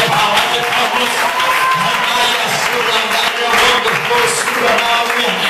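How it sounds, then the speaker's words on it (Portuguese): A church congregation clapping hands during a preaching service, a dense continuous wash of applause filling the room for several seconds, with a voice speaking over it. "Receba, minha irmã. Bate palmas."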